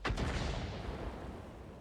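A single loud boom of a tank gun firing in World of Tanks erupts at the start, followed by a long fading rumbling decay.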